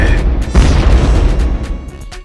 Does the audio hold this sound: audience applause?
no